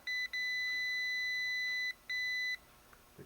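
A continuity tester sounds off while checking a horn wire on a 1955 Buick Century steering column: a steady high-pitched electronic beep, briefly cut, then a second long tone, then silence, fairly quiet with no talking.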